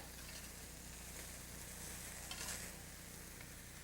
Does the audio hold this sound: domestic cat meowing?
no